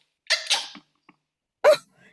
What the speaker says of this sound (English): Now you have sneezed the frosting on me.